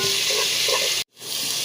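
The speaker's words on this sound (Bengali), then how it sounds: "এগুলোকে ভালো করে পেঁয়াজের সাথে একটু কষিয়ে নেব" Onion, ginger and garlic frying in hot oil, a loud dense sizzle with stirring that breaks off sharply for a moment, then resumes.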